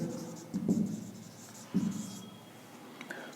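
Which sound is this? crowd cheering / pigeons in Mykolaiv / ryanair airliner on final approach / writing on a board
writing on a board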